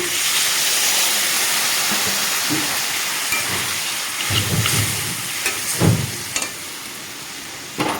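Vegetables for an aloo bori tomato and squash curry hiss and steam loudly in a hot pan after water goes in, a steady broad sizzle with a few clinks and stirring bumps later on.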